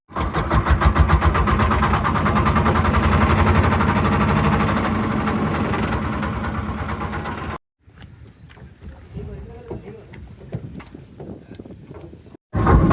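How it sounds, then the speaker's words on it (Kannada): A boat's engine on a river trip near Honnavar drones loud and steady for several seconds, then cuts out abruptly, leaving quieter scattered background noises before a sudden loud burst at the end. "ಬೋಟ್ ಸ್ಟಾರ್ಟ್ ಆಯ್ತು."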